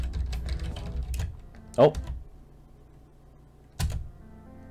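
Keys pressed on a computer keyboard during a PC puzzle game, Please Don't Touch Anything: two sharp isolated clicks about two seconds apart, close and fairly loud, with a brief spoken exclamation and game sounds underneath.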